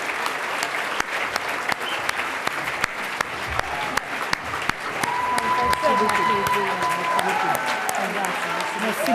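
An audience at the 2013 Prix Femmes d'affaires du Québec awards ceremony claps to welcome a laureate. The applause is dense and sustained, with sharp individual claps, and swells louder in the second half.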